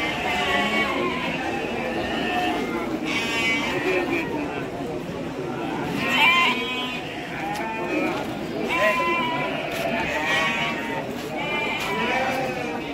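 Garut sheep bleat repeatedly at a livestock market, loud and close, mixed with people talking and general crowd noise.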